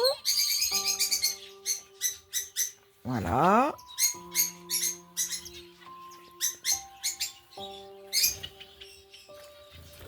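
Japanese sparrows (society finches) in a home aviary give rapid bursts of high, bright chirps throughout, close by, with a short spoken word from a person partway through.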